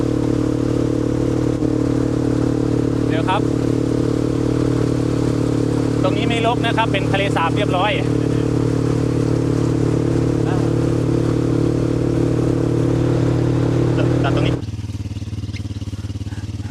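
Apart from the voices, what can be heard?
motorcycle riding through floodwater on a canal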